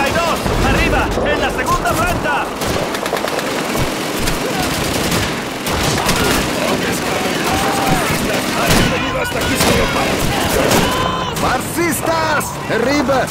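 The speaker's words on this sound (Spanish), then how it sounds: "¡Una ametralladora! ¡Por la madre patria! ¡Es una MG-42!" An MG-42 machine gun rattles amid dense wartime battle gunfire in Call of Duty 2, loud and relentless throughout, with shouting voices mixed into the chaos.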